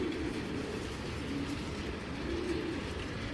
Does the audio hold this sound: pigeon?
yes